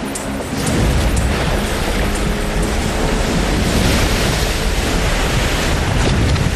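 Tidal bore surging up the muddy Shubenacadie River, a dense, steady roar of rushing, churning water with broadband wash and wind, loud and continuous after a quieter first half-second.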